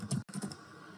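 Quick typing on a computer keyboard while writing ReactJS code, a short close burst of soft clicking keystrokes with a brief pause, no talk.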